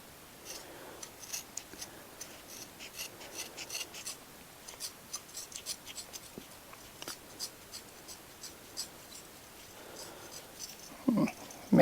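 Fresh end being cut off fiberglass exhaust wrap: a series of faint, irregular snips and rustling rubs, close up and quiet, with no talk.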